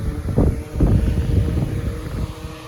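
An antique one-speed General Electric DC fan, freshly oiled, runs with a steady, fairly loud whooshing hum and low rumble of moving air that holds even from start to finish, with no voices.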